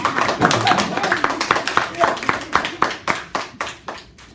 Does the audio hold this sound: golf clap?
yes